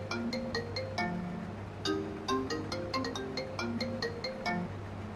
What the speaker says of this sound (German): ich will mal kurz telefonieren